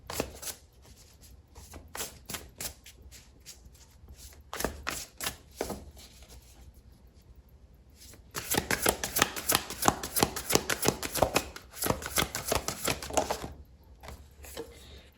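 A deck of cards for a reading is shuffled close by in scattered flicks and taps, then a long, steady run of rapid riffling snaps before it slows and stops; no talk.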